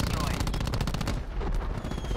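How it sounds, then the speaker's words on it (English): Loud, sharp blasts and rapid crackling gunfire in Call of Duty Black Ops 4 Hardpoint play, a quick dense burst in the first second followed by a rumbling tail and scattered further shots, with a voice faintly underneath. "Two grenades in there and didn't hit anyone."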